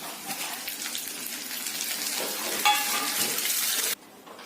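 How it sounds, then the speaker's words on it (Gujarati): Tomatoes tipped into onions frying for a Kathiyawadi mixed dal give a steady, close hiss and crackle of sizzling oil, with some stirring, before the sound cuts off abruptly near the end. "પછી ડુંગળી, એમાં આપણે ટામેટા નાખી દઈશું."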